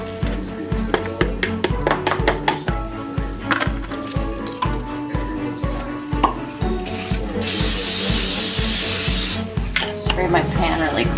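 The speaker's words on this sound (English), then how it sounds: "Spray my pan really quick." Cooking spray hisses onto a baking pan in one steady burst of about two seconds, up close. Rhythmic rubbing and tapping come before it.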